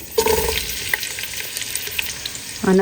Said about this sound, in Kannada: ಇಲ್ಲಿ ಈರುಳ್ಳಿ ಹಾಕ್ಕೊತಿದ್ದೀನಿ ಒಂದು ಮೀಡಿಯಮ್ ಸೈಜ್ ಇಷ್ಟು ದಪ್ಪ ಈರುಳ್ಳಿನ ಎರಡು ಈರುಳ್ಳಿನ ಕಟ್ ಮಾಡ್ಕೊಂಬಿಟ್ಟು ಹಾಕ್ಕೊತಿದ್ದೀನಿ